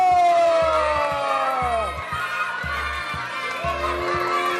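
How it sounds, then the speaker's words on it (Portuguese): Children shout and cheer excitedly, their voices rising and falling over a steady, pulsing bass beat. "Palmas e gritinhos para a múmia Enzo!"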